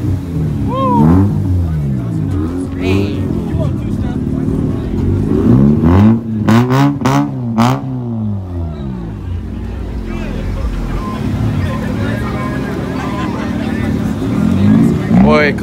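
A Honda Integra revs hard against three-step launch control, its engine note rising and falling in a loud, near, repeated pattern with sharp popping bursts, under scattered talk at a car meet.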